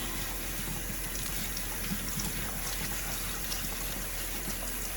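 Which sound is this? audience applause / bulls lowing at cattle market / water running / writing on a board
water running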